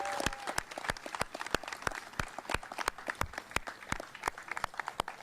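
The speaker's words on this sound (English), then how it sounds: "Please give Governor Carney a round of applause." A small outdoor crowd applauding a governor at a bridge dedication, with sharp, distinct individual claps in an irregular rhythm and a faint background wash, fairly quiet overall and no speech.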